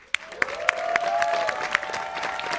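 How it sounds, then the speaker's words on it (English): An audience applauds an honoree at a Latino Heritage Month illumination event, a steady wash of clapping from a crowd with a few sharper claps standing out, sustained throughout. "Let's give him a round of applause."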